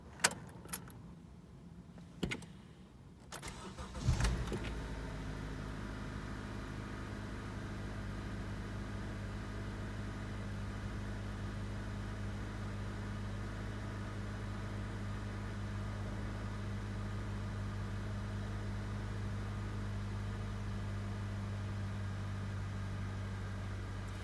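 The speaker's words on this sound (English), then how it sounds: "this is what the car sounds like when I start it" Keys jangle and click in a Honda's ignition before the engine cranks and fires after an oil change with Quaker State 0W20, then settles into a steady low idle that runs on alone.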